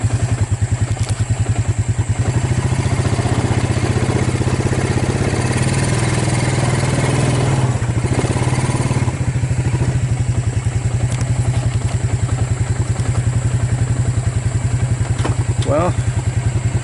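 A Suzuki KingQuad ATV engine idles with the choke half on, a loud, close, steady rhythmic chugging with clattery mechanical ticking throughout and a few faint brief noises over it.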